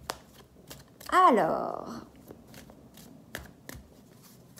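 A deck of oracle cards being cut by hand, heard as one brief riffling flutter of cards lasting under a second. Soft taps sit around it and a voice speaks just before.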